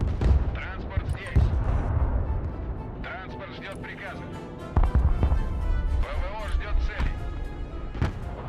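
A rocket battery fires in the real-time strategy game Broken Arrow, with a continuous dense barrage of booming launches and explosions rolling under a busy, loud combat soundscape, heavy thumps punctuating the din.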